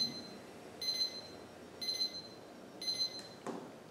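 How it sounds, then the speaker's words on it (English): A meditation timer's alarm chimes three times at an even pace, each a bright repeating beep pattern roughly a second apart, faint over a soft background hush, followed by a short click at the end. "There's our timer."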